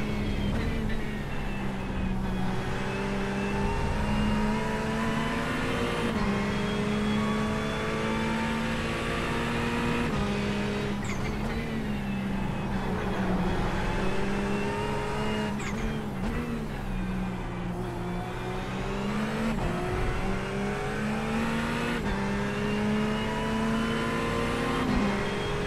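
Race car engine in the iRacing sim holds a steady, loud drone throughout, its pitch rising and dipping with shifts and throttle changes, with no voices over it.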